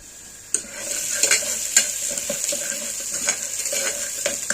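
Ginger and garlic fry in hot oil in a pan for beef curry, giving a steady bright sizzle broken by repeated sharp scrapes and taps of a stirring spoon, close and fairly loud, with no voices.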